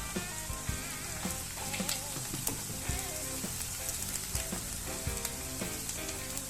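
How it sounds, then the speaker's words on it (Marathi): Onion and green chillies fry in a pan for Marathi-style anda bhurji, a loud, steady sizzle with crackling pops and occasional stirring scrapes throughout, with no talking. "कांदा छान परतून घेतलाय मी त्यात आता हिरव्या मिरच्या टाकते"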